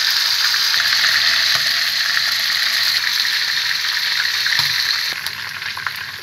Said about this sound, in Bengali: ফার্স্টে আমি চিকেনগুলোকে একটু হালকা লাল লাল করে ভেজে নেব।